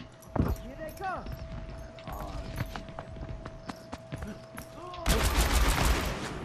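McCree's revolver in Overwatch fires a rapid string of sharp, loud gunshots with ringing tails, some overlapping, and a burst of heavier gunfire at the end, all mixed over game effects and a voice talking.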